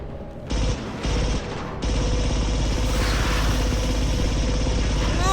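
Rapid gunfire from a weapon in the VR game Alien: Rogue Incursion comes in short bursts, then turns into a sustained loud barrage layered over dense game noise.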